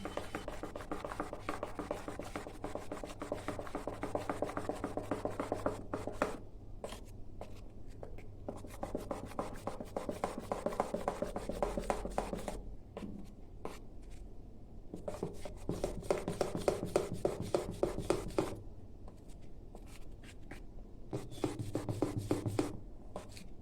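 A spoon scrapes and stirs dhokla batter made with raw mango, gram flour and semolina in a bowl after soda is added, a soft rhythmic rasping in bursts with short pauses, close and quiet.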